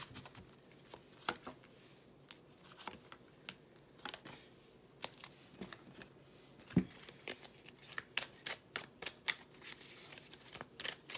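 Tarot-style reading cards are shuffled by hand throughout, with soft, close riffling and slapping in irregular bursts and crisp taps at a low level.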